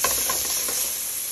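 Hamburger patty meat browning in a pan for Mexican alphabet soup, with a busy crackling sizzle and a few stirring scrapes close by, alone and without talk.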